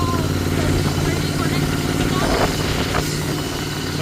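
A motorcycle engine runs steadily and loudly up close, a continuous rough drone throughout, with voices talking over it.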